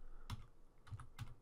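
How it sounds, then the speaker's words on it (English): Computer keyboard arrow keys pressed a few times while editing in Vegas Pro, with three soft, close clicks spaced irregularly over a quiet background. "So I'm just going to move along here using the left and right arrow keys."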